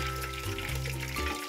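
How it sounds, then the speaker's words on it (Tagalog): Water being poured into a pot in a home kitchen while making dulce de leche from condensed milk, a soft continuous trickling splash under a low hum, fairly faint and brief. "Ito po, naglalagay na tayo ng tubig."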